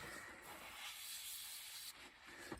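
An airbrush sprays paint onto a 1/72 Bandai X-Wing model, making a continuous close, airy hiss that holds steady for about two seconds before briefly dipping and resuming.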